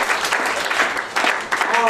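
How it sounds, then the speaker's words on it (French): Loud applause from an audience at a New Year's greetings ceremony, dense steady clapping filling the whole moment with a couple of brief swells. "je vous demande d'applaudir fortement"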